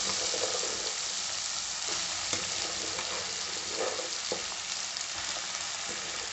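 Broad beans fry in hot oil with a steady, close sizzle and occasional stirring scrapes, without speech.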